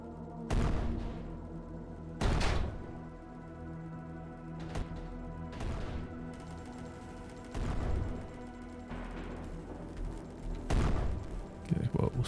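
Tanks fire repeatedly in a strategy war game, with about seven heavy cannon blasts at irregular intervals over a steady battle rumble. Speech-like sounds run faintly under the shots.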